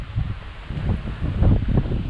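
Wind blowing through mango trees outdoors, gusty rushing and leafy rustling that swells and surges in waves, with low rumble from the wind on the microphone.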